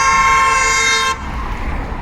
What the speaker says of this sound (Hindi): खाली सड़क में क्यों हॉर्न मार रहे हो